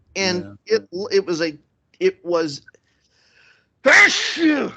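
A person speaks briefly, pauses, then lets out a single loud, sharp sneeze near the microphone.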